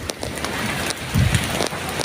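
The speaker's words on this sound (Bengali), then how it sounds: "বিকেল 5টা বাজে, বৃষ্টি হচ্ছে" Steady rain falls on an evening, a broad continuous hiss with soft drops close by, briefly swelling louder midway, with no talking.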